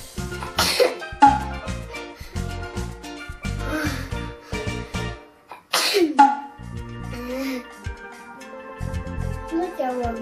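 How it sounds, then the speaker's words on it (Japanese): A child sneezes repeatedly during a sneeze challenge, sharp bursts recurring every couple of seconds amid coughs, throat clearing, and chatter, with playful background music running underneath. "それではくしゃみどれだけ出せるかスタ"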